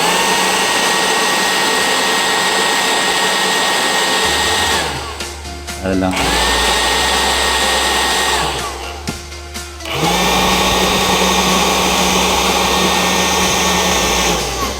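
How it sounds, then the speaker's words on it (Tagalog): Improvised blower forcing air into an Isuzu Traviz engine part, a loud steady whirring roar that cuts out twice in brief pauses before starting again, with a short spoken phrase. "Okay, meron tayong improvised blower dito."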